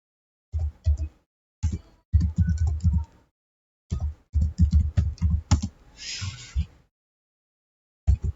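Close keystrokes on a computer keyboard as a logit regression command is typed into econometrics software, coming in irregular bursts of clicks with brief pauses between them.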